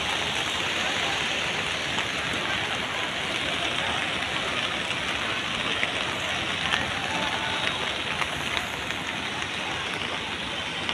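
Heavy monsoon rain pours over flooded Mumbai streets in a dense, unbroken hiss of falling water that holds at the same level throughout, with no clear voices on top.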